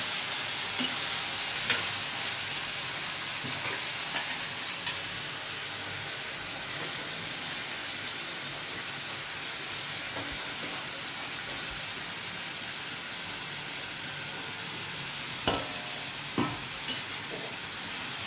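A vegetable tempering of asafoetida and green chillies fries in oil while being stirred, giving a continuous close sizzle with a few sharp spoon clicks and scrapes against the pan.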